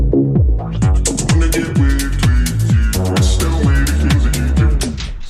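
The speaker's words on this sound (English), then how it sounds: "Low pass filter sounds like this." Music in the DJAY DJ app plays through a low pass filter, leaving a loud, muffled, steady beat of thumping bass kicks. The pulse holds a regular rhythm with dulled upper tones throughout.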